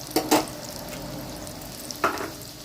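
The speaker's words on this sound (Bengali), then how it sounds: "রসুনটা আমার ওই পাশে ভাজা হতে থাক" Garlic frying in ghee in a pan for palak paneer, a low continuous sizzle with a few sharp spatula knocks near the start and another about two seconds in, close by.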